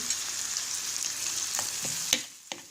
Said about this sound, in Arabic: هكذا نخليه يتقلى شويه